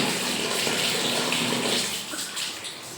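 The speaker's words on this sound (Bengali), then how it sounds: "বালতি পেতে দিয়ে গেছি আর জল ধরে পড়ে যাচ্ছে" Tap water runs hard into a bucket at a strong afternoon pressure, a steady close rushing gush that holds for the whole stretch and eases slightly toward the end.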